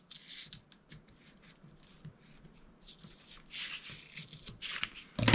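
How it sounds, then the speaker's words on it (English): Scissors trim the edge of a paper envelope in a quiet room, making a series of soft snips and paper rustles that grow louder and closer toward the end, with no talking. "I am just going to take my scissors and trim this portion down."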